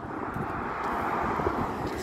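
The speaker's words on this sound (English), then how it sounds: "Airplane again." Airplane passing overhead along a flight path near a residential street, a steady, loud, broad jet roar that holds its level throughout with no speech.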